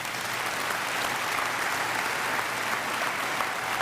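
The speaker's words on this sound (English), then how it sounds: "So a big round of applause for John" A big round of applause for John at a competition night, steady dense clapping from a crowd filling the whole stretch at even loudness.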